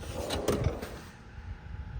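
A drawer on a US General full-bank tool cart holding wrenches slides open or shut, giving a brief metallic slide and clunk near the half-second mark over steady room noise.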